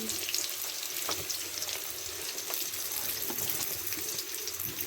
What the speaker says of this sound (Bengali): আলুগুলো একটু লাল লাল করে ভেজে নিতে হবে